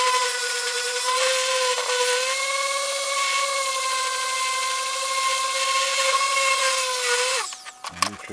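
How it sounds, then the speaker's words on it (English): A woodworking power tool runs with dust extraction on, giving a loud steady whine with a constant hum for several seconds before it cuts off, followed by a few clunks and knocks. "Quick hand sand"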